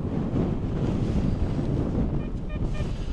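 Wind buffets the microphone on a beach in Kent, a steady close roar with surf underneath that holds loud for the whole stretch without any talk.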